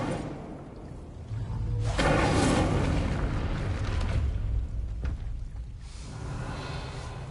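An Incendio fire spell is cast in the video game Hogwarts Legacy: a whooshing burst of flame swells loudly, sustains a roaring crackle, then a second flare follows before it fades, with no voices.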